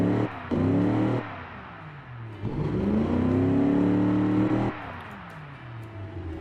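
A simulated 3.8 liter V6 in the Automation car-building game, rumbling like a Chevy small block as it revs up twice in long rising sweeps, dropping back to a low idle between and after, heard loud and close.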